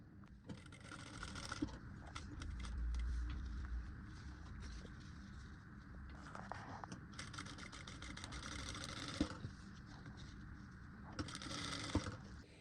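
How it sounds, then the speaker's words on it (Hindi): A sewing machine stitches a princess cut blouse along the canvas underneath, running in steady bursts with short pauses, close and fairly loud, with no talking. "कैनवस के नीचे ध्यान सिलाई लगानी है"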